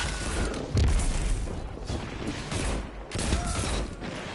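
Grenade launcher blasts in the Destiny 2 video game land in a quick cluster of booming explosions and bursts, one heavy thump followed by several crackling detonations in rapid succession.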